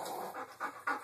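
A dog pants close by in quick, rhythmic breaths, a short steady burst of huffing with no talk over it.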